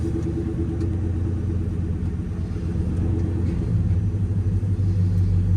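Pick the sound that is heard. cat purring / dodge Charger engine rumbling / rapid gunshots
dodge Charger engine rumbling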